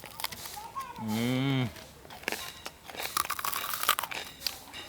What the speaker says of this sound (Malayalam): ആ കറുമുറുന്നുണ്ട്